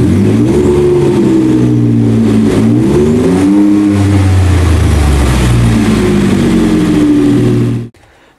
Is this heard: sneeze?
no